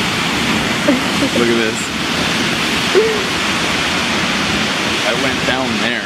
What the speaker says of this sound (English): Right under the waterfall. Okay, not under it, but right behind it. And it was intense.